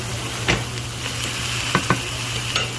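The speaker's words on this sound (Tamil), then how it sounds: "பின்னர் அதனை வதக்கி" Fish curry masala is sautéed in a pan with a steady, close sizzle, punctuated by several sharp scrapes and taps of a spoon against the pan.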